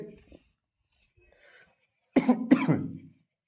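Two harsh coughs in quick succession, close and loud, after a few faint breaths and quiet sounds.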